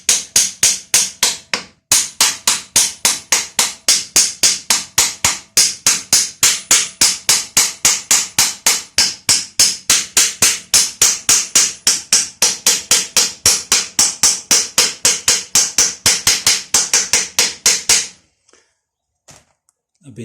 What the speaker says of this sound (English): gonna get a hammer and then just tap them up until they are seated